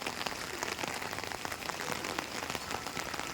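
Steady heavy rain pours down outdoors where wind has toppled a tree onto a power line, a dense close patter on surfaces throughout with no voices.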